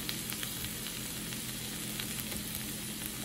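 Shrimp, scallions and peppers sizzling in butter in a pan, a steady bright hiss with small crackling pops, close and continuous for a few seconds.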